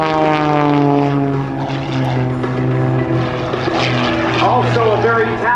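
A propeller aerobatic airplane drones loudly through competition figures at an air show, its engine pitch rising and falling as a voice talks over it.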